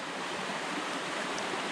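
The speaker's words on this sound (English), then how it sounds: "That's about a 30-foot waterfall right there. Coming down, whew, boom, right into a pothole." A 30-foot waterfall in Pennsylvania's Muddy Creek Gorge pours into a pothole, giving a steady, unbroken wash of rushing water heard alone at moderate loudness.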